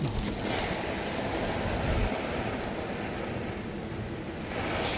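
Water sprayed steadily over a waterproof cover, a dense, continuous pattering hiss like heavy rain on fabric, close and loud for the whole stretch with no talking.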